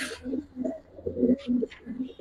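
Domestic pigeons, a pair kept by a fancier, give soft low coos in several short rounds over about two seconds, close by, with faint chirps and a little background noise.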